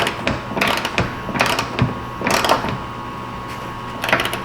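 Ratchet wrench clicking in short bursts while a bolt is tightened on a Buick Enclave, close up and fairly loud, with pauses between runs and no talking.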